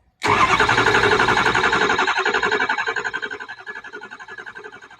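A Ford F350 diesel engine cranks on the starter to purge air, starting abruptly loud with a fast steady rhythmic churning that slowly weakens and fades over several seconds without catching.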